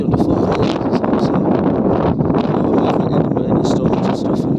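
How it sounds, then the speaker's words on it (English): Strong wind sweeps across the Yorkshire moorlands, a loud continuous roar with gusty buffeting on the microphone from start to finish. "It's very windy."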